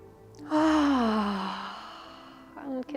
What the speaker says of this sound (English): And breathe it in.